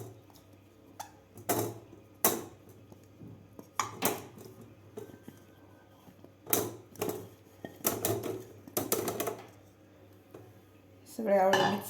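Washed amla gooseberries are dropped into a metal kitchen sieve, making a series of sharp metallic clatters and rattles at uneven intervals. The sounds are close and fairly loud, with quiet pauses between them.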